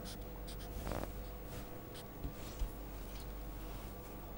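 Chalk or pen writing equations on a board during a physics lecture on magnetized materials, a steady scratching stroke with a brief louder burst near the start, heard alone over a low room hum.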